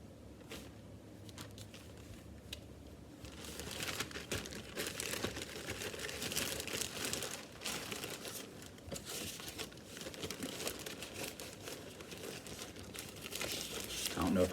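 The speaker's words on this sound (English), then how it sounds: "let me again apologize for the bag crinkling" A plastic bag crinkles and rustles up close for a long stretch during cross-stitch needlework, its crackling steady and busy, with speech faintly heard beneath it.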